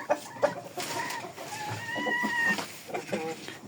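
Roosters and hens offered for sale cluck repeatedly nearby, with short choppy calls and a drawn-out tonal squawk in the middle, over a noisy yard background.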